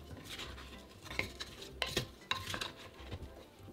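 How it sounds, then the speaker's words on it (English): Green papaya and grape tomatoes are pounded and mixed in a mortar for Thai papaya salad, a quiet, uneven series of dull thumps and clinks up close, with no one talking. "Pound slightly and mix everything together"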